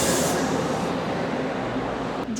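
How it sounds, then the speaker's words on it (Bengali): An empty train running in Taiwan makes a steady, loud rumbling roar with a hissing wash on top, continuous throughout, with a brief squeal near the end and no voices. "পুরো ফাঁকা ট্রেনটা, একটাও প্যাসেঞ্জার নেই"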